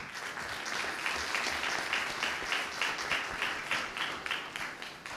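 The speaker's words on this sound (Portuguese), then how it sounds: "Uma salva de palmas para vocês." Audience applause at an orientation welcome for new graduate students, steady dense clapping from a seated crowd throughout, fairly close and uninterrupted, with no talking over it.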